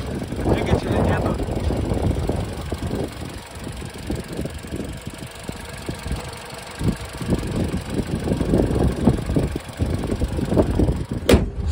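A Mitsubishi ASX 1.8 engine with 162,000 km idles with a steady low rumble while someone talks over it, ending with a brief sharp click.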